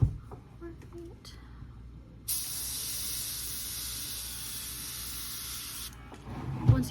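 Black spray paint hisses from an airbrush-style sprayer onto a squirrel mount in one steady burst of about three and a half seconds, with quiet handling noises before and after.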